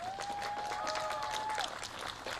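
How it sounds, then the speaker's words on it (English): Applause from an audience at a school year opening event at McDowell Montessori School, steady dense clapping throughout with a faint sustained tone running through the middle. "Give us a round of applause"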